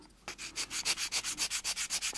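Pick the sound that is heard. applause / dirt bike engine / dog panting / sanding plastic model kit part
sanding plastic model kit part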